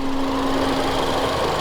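The 2016 Ford Fiesta ST's small turbocharged engine, about 200 horsepower and fitted with an aftermarket intercooler, runs at a steady idle with an even hum and a faint tonal whine, close and continuous.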